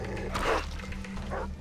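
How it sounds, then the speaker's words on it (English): A dog in the Far Cry 3 video game barks in two short bursts, fairly close, over a steady low in-game hum. "Vicious, stupid dog."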